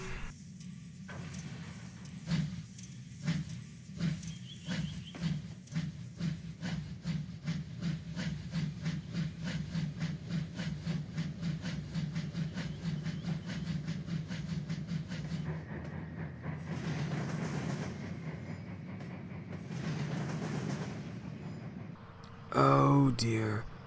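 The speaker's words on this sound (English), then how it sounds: "The passengers wearily boarded the train, the guard blew his whistle, and Alfred puffed away." A steam train engine puffs steadily down the line, with a rapid, even chuffing rhythm under a continuous hiss, then a brief louder noise near the end.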